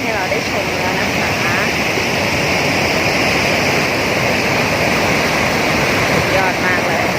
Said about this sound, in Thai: น้ำตกค่ะ อ่างห้วยขี้เหล็กสร้างให้เราได้ชมแล้วนะคะ